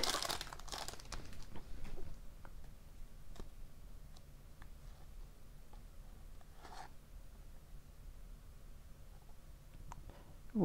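A 2002-03 Bowman Young Stars hockey card pack is torn open with a burst of close crinkling wrapper noise, followed by faint scattered ticks and rustles as the cards are handled.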